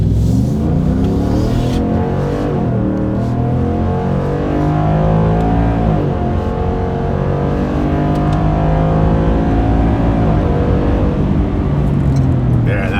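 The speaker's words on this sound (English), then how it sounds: "let's do a little spin around here and hear this thing at wide open throttle" Ford F-150 engine at wide open throttle, a loud, steady roaring drone with rising revs throughout, heard close and continuous with little else over it.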